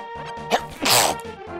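A single sharp human sneeze bursts out abruptly mid-session during a video game, loud and close amid quiet background sound.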